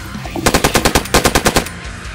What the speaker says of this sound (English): He just shot me.